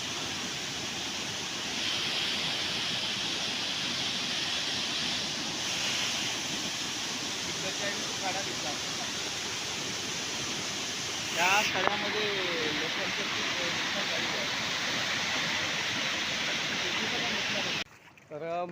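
Floodwater rushes steadily during heavy Konkan rain, a broad continuous roar under someone speaking, with a short burst of wind buffeting partway through and an abrupt drop near the end.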